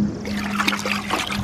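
Infinite Use Detail Juice rinseless wash being poured into a bucket of water, a steady close trickle with a faint hum underneath.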